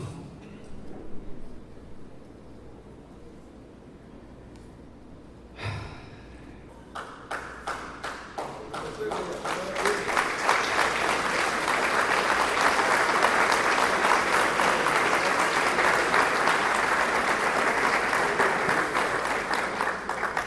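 A church congregation applauds during a sermon. A few scattered claps grow into loud, sustained clapping that fills the room and carries on steadily.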